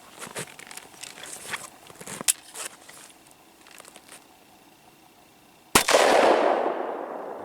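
A single sharp, loud 9mm gunshot from a small pistol firing Hornady Critical Defense ammunition, preceded by quiet clicks and handling of the gun and followed by a lingering echo outdoors.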